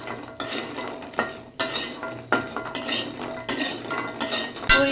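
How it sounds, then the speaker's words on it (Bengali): Bori lentil dumplings frying in a pan for shukto, a Bengali mixed-vegetable dish, with a steady sizzle broken by repeated scrapes and clinks of a spatula stirring against the pan, close and fairly loud. "বড়ি দিয়ে বড়িগুলো ভালো করে ভেজে নেব।"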